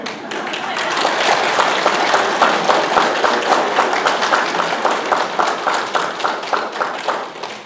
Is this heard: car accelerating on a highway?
no